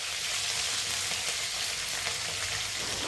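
Cumin and mustard seeds sizzle with curry leaves in hot oil, a tempering for tomato chutney: a continuous, dense, close-up hiss and crackle of frying that holds steady throughout.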